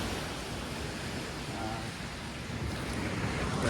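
Waves breaking on a seashore at about 5:30 in the early morning, heard as a steady, loud wash of surf that swells slightly toward the end, with wind rumble and no one talking.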